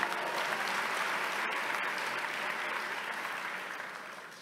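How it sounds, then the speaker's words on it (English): Sustained applause from a commencement audience, a dense steady wash of many clapping hands that holds loud throughout and tapers slightly toward the end, with no speech over it. "so give yourselves a round of applause"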